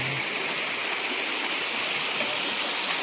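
Water runs steadily through a water supply point at a forest picnic spot in rural Konkan, giving a constant broadband hiss and rush at close range with no voices.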